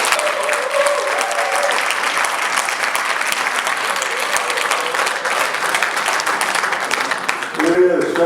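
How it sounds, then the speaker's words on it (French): Loud, sustained applause from an audience at an award ceremony, a dense steady wash of clapping lasting throughout, with faint voices beneath and a brief shift near the end. "je vous demande de l'applaudir très fort."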